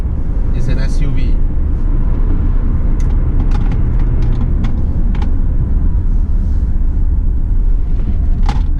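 Inside a 2019 Proton X70 2WD SUV on a test drive, a steady low road and engine rumble fills the cabin under someone talking continuously.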